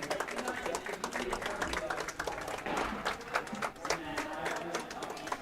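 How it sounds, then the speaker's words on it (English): Spectators in the warm room of a curling club applaud at the 2023 Cracked Bell finals; a busy, even wash of clapping runs under a commentator's talk throughout. "applause in the warm room for a very entertaining game."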